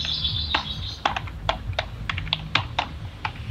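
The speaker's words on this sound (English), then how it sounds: "That's my keyboard." Clicky keystrokes on a computer keyboard, irregular and fairly close, tapping out uneven bursts over a low background hum during a Fortnite gaming session.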